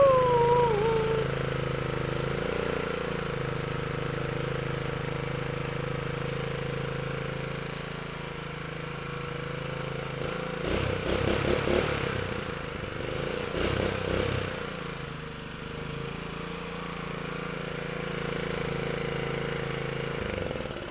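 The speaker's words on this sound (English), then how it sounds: "Little old engine's cranking really well now that we give it a good thorough carburetor cleaning." A small gas engine on an air compressor, freshly cleaned carburetor, idles and runs steadily with a mechanical clatter and knock, close and continuous, with a brief rougher burst partway through.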